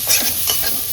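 Onion sizzles loudly in hot oil, a dense continuous frying crackle close by with the scrape of stirring, and no voices.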